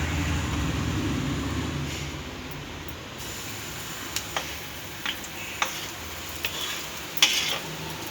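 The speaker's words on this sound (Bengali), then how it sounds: "তেলটা একটু গরম হলে আমরা এর মধ্যে দিয়ে দেবো এই ব্যাটারটা।" Batter fries in hot oil with a soft, continuous sizzle, joined in the second half by scattered sharp ticks and pops.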